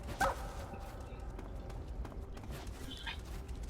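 A dog in the stealth game Metal Gear Solid 3 gives one brief, high squeal right at the start, then only faint ambient game noise remains.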